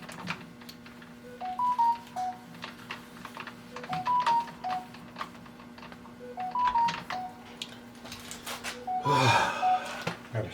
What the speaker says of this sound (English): My phone has got an alarm on it that tells me when I'm supposed to take my medicine.